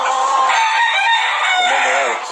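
Several roosters crow at once, overlapping loud calls in a dense chorus with clucking, from a flock of about forty-five gamecocks kept together.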